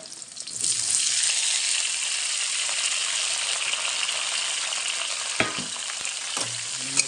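Tomatoes drop into a hot pan and are stirred for momo chutney, setting off a loud, dense hiss of frying that swells within the first second and holds steady. A few sharp clanks of the spoon against the pan cut through near the end.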